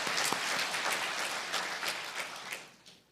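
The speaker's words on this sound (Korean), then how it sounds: "하나님께 영광의 박수 드리겠습니다." A church congregation applauding together, a fairly soft, steady patter of many clapping hands that fades toward the end.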